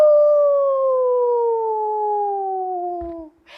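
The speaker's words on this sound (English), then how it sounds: "Can you bark? Do you hear Meddy barking?" A dog gives one long, loud howl that slides steadily downward in pitch for about three seconds. It stands alone and ends with a brief rustle.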